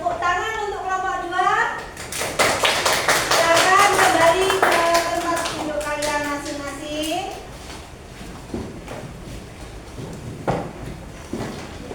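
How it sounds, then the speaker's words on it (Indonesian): A classroom group claps for a group presentation, dense applause swelling for several seconds then thinning into scattered claps, with children's voices and chatter mixed in throughout. "Tepuk tangan untuk kelompok 2."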